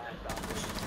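A quick burst of gunfire in Tom Clancy's Rainbow Six, loud rapid shots packed into under a second with a voice mixed in.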